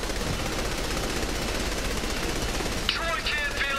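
Rapid gunfire from the video game Saints Row The Third crackles continuously under a dense mix of game noise, with a brief voice near the end.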